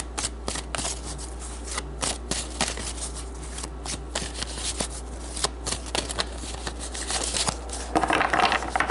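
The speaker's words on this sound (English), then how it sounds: "Alright, I feel like one more shuffle." Cards are shuffled close up, a rapid riffling flutter with crisp snaps, continuing steadily and growing louder near the end.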